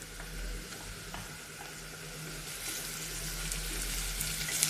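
A ground paste of fennel, poppy seeds, cinnamon, cardamom, radish and cashew stirred and fried in oil for a butter bean coconut milk pulao, a steady soft sizzle with faint scraping, no voices.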